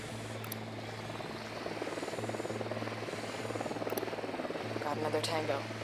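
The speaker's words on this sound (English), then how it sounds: "The drone is up." A drone buzzes in flight in Ghost Recon Wildlands, a steady rotor drone hum that pulses slightly under the game's voices.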